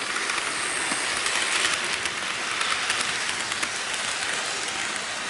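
A steady rushing clatter of a Rapido Royal Hudson 2860 model steam locomotive with DC silent running pulling a mixed train along a layout track, continuous with faint rhythmic clicks and no voices.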